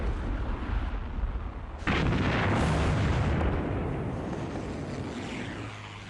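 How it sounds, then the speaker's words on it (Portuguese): Pacific War naval bombardment by five ships pounds coastal cliffs with artillery, heard as a muffled low rumble that breaks into a sustained, loud roaring barrage of blasts, fading slowly. "Por 2 horas e meia, 5 navios coordenam um bombardeio extremo."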